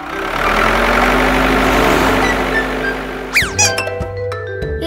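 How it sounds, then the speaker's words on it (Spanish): An excavator engine rumbles steadily at idle for a few seconds before a quick rising sweep and light clinking tones take over. "La excavadora."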